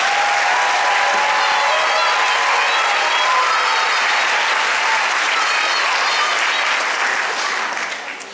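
A large concert audience at an all-county chorus concert applauds the high school chorus students with loud, dense, sustained clapping that fades slightly at the very end.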